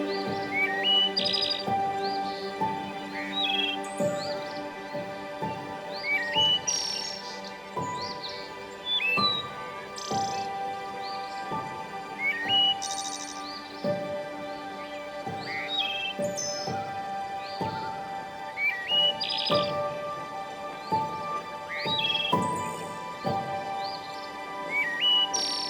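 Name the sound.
birds chirping in pine forest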